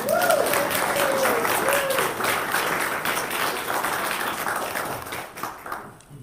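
Church audience applauding a performer at a Sunday service, a dense wash of clapping that fills the room and fades toward the end, with a brief voice rising over the start.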